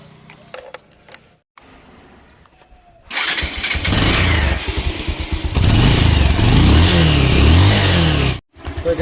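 Keys jangle briefly before a motorcycle engine low on oil and fuel cranks and catches, then runs loud and close with rising revs, no voices.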